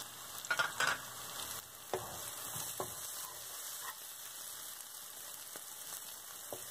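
Masala spice powders, turmeric, coriander and chilli, frying in a pan for an egg curry, giving a steady soft sizzle with a few louder stirring scrapes near the start, close by and with no talk.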